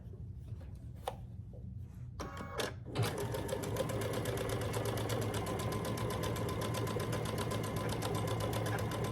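A sewing machine stitching a Grinch quilt block, starting with a few short taps and bursts before settling into a steady, fast mechanical rattle that runs continuously.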